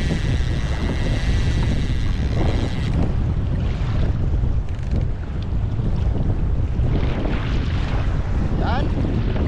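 Fishing boat trolling through big, rough waves on open water while fishing for king mackerel; steady engine and water rush with heavy wind buffeting the microphone throughout, loud and close.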